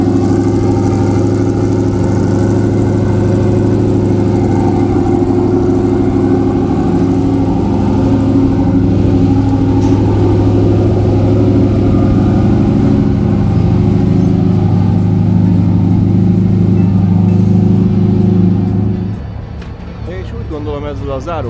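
A rally car engine idles steadily with a deep, even rumble, heard up close at the exhaust, then cuts out near the end, leaving a quieter ticking background.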